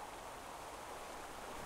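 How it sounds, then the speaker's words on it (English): Waterfall in the video game Mind: Path to Thalamus, a steady broadband rush of falling water that holds even and continuous throughout, with no voices over it. "Well, this is just a waterfall."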